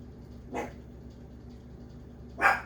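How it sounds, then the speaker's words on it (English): Two muffled dog barks from another room, spaced about two seconds apart, over a quiet background hum. "If you hear anything barking, it's my crazy dogs."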